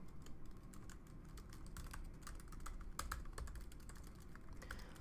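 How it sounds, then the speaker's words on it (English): Rapid, fairly quiet keystrokes on a computer keyboard as text is typed into an email template in Zoho CRM, continuing in an uneven rhythm with no speech. "Then I can just type in my content."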